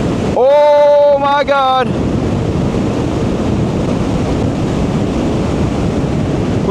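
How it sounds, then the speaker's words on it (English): Strong headwind roars across the microphone on a fast ride aboard a Naxeon I Am electric motorcycle, a loud steady rush that buries everything, with a brief high whine and a short exclaimed voice at the start. "It is pretty windy. We are going into a headwind"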